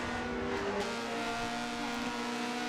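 Race car engines in Forza Motorsport 7, a BMW and a CRX, scream continuously with sustained high-revving tones and gear-shift changes, loud and steady without any talk.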